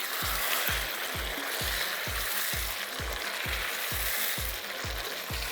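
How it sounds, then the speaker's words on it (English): Chicken karahi sizzles loudly in a pan as it is stirred, a dense continuous frying hiss with regular low thumps roughly every half second from the stirring, close up and without talking. "Give it a good stir."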